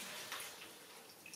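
Hot water poured over hair during a relaxing scalp massage, a soft steady splashing wash that runs continuously and close for about a second and a half.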